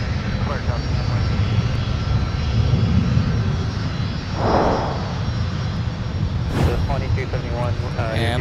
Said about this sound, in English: Delta 258 Heavy. Now on the move to runway 12 right